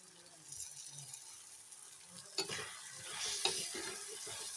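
Onions sautéing in a pan for chicken curry as ground cinnamon, two cardamom pods and fennel go in, a soft steady sizzle with occasional stirring scrapes and a brief clatter, close and fairly quiet.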